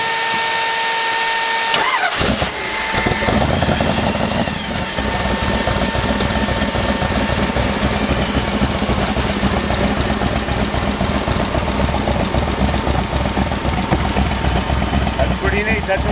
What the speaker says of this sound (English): I just turned on the kill switch, and listen to this motor.